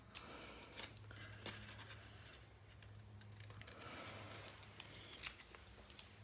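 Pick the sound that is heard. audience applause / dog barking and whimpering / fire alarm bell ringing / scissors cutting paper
scissors cutting paper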